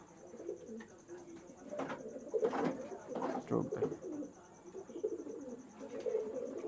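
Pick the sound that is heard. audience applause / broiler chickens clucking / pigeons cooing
pigeons cooing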